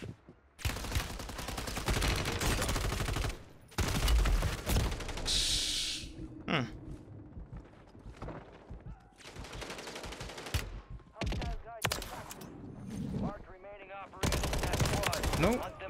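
Gunfire in the video game Warzone comes in repeated loud bursts of automatic fire separated by short pauses, with a few brief voices between the volleys.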